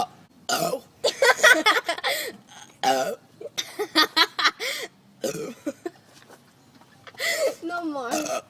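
A girl burps repeatedly after drinking Coke, a string of short and drawn-out voiced belches separated by brief pauses, loud and close, with people talking and reacting around them.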